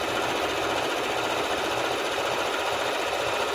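A sewing machine stitches quilt block strips together for a charity quilt, a steady, continuous mechanical whir running at an even pace throughout, close and loud with no talking.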